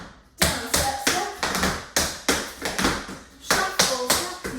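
Tap shoes strike a hard floor in an intermediate tap dance combination of shuffles, steps, heel drops and knocks, landing as crisp, close clusters of taps in an uneven rhythm, with no talk over them.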